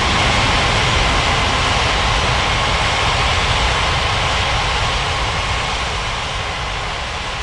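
Airliner jet engines in an air traffic control video game, a loud, steady, broadband roar that holds constant throughout and eases slightly at the very end, with no voices.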